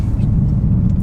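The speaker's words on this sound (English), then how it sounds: "Loads of exhaust noise, loads of engine noise, loads of turbo noise." A BMW M5 Competition's engine and exhaust produce a dense, loud, low rumble with steady throbbing, heard continuously from inside the car.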